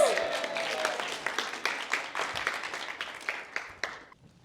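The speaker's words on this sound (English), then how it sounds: "Round of applause." An audience at a cyber and design talk applauds as a volunteer comes up, a fairly close round of clapping that thins out and fades near the end.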